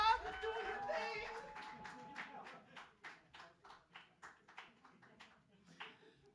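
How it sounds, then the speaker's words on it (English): An open mic crowd at a poetry cafe claps as a performer is welcomed, scattered claps under an emcee's voice at first, then a thinning run of separate claps that tapers off. "A rousing round of applause!"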